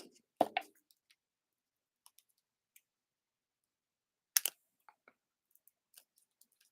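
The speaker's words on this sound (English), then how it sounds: "I'm going to just trim that nose a little bit." Scissors trim the nose of a paper craft figure during card making. A couple of crisp, close snips stand out in an otherwise quiet room, followed by small scattered clicks and rustles of the paper.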